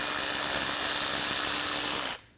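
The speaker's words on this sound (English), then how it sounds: "Using a 10mm socket, we're going to remove the nut on the stud." A power tool spinning a 10mm socket to remove a nut from a stud on the inboard side of a Volkswagen Passat's AC compressor, a steady high whirring buzz for about two seconds before it cuts off.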